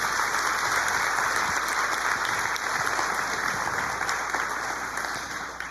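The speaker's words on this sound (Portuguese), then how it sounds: "Posso aplaudir o Senhor por isso?" Church congregation applauds steadily and evenly throughout, a dense wash of clapping with no voices standing out.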